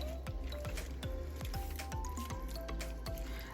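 Food stirred in a pan on medium heat, fresh pineapple among the ingredients: soft wet squishing and scraping strokes in a regular rhythm over a faint steady sizzle, close and quiet.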